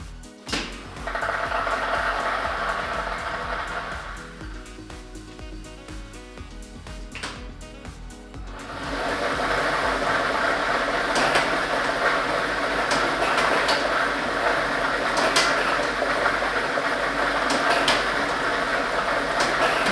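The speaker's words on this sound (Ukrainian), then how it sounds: "І ми вмикаємо лототрон" Lottery draw machine for the Ukrainian state Loto Maksyma game, set running with ball set number 4, giving a loud continuous mechanical rumble and rattle of tumbling balls that settles briefly before resuming steadily with no talk.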